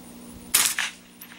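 A single sharp crack from a Savage 64F .22LR semi-automatic rifle firing Mini Mag rounds at a target, loud and close, followed by a short echo tail.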